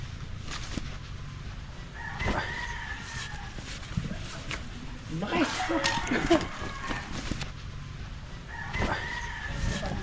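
Several roosters crow at intervals over clucking hens on a chicken farm, fairly close, while people talk in Filipino throughout.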